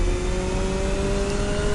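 A McLaren 765LT in The Crew Motorfest racing game holds a loud, steady engine drone with a smooth, high rev tone throughout, with no voices.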